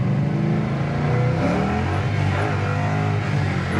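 A 1975 Mercury Comet restomod cruising in fourth gear at about 70 mph and 3,000 RPM, a steady, even engine drone from inside the car, with no one speaking.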